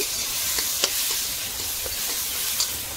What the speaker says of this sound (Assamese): ৰাইজসকল এতিয়া মোৰ তিয়হখিনি ভাজা হৈ গ'ল